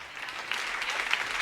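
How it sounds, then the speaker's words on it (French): A church congregation breaks into steady applause at a French-language worship service, dense and continuous clapping that swells slightly and fills the whole short moment with no talk over it. "Applaudissements."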